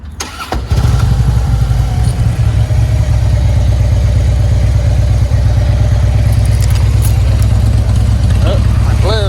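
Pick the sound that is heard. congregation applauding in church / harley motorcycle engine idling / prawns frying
harley motorcycle engine idling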